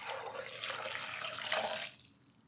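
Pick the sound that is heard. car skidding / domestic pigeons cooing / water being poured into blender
water being poured into blender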